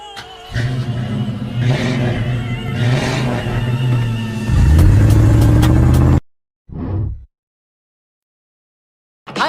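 A car engine revs hard, a steady loud roar that climbs higher before cutting off abruptly, followed by one short burst and then silence.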